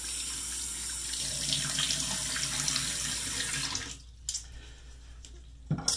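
Tap water runs steadily into a sink for a shave preparation, splashing close by for several seconds before cutting off, followed by a few faint drips and small knocks.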